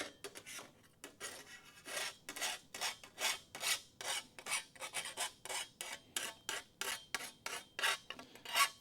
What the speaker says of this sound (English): So I know I'm dragging the file backwards.